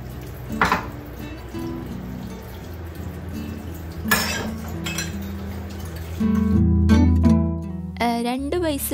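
Dishes, pots and pans are washed at a kitchen sink, with occasional clinks and knocks over running water and a louder rush of water near the end.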